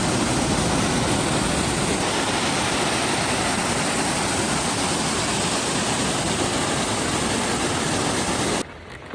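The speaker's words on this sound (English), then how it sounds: "So here's a secondary waterfall." Secondary waterfall beside a mountain trail, a loud steady broadband rush of falling water filling the whole stretch without a break until it cuts off abruptly at the very end.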